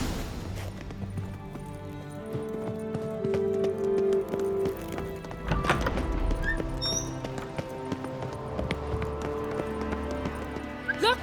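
Hooves of Roach, a horse in The Witcher 3: Wild Hunt, clip-clop in a galloping rhythm amid a chase, with a whinny, game music and scattered effects, while voices talk over it.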